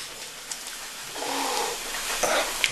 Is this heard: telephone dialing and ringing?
no